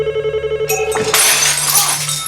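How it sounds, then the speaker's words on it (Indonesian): A telephone bell rings in rapid, close pulses, then cuts off as plates and glasses crash and shatter loudly, with clattering fragments afterward. "terkejut mendengar dering telepon"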